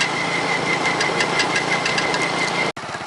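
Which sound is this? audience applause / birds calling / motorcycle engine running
motorcycle engine running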